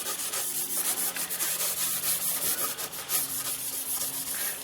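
A Scotch-Brite pad scrubbing metal wetted with PB Blaster penetrating oil: a steady, close abrasive rubbing that continues throughout at a constant level, with no talking.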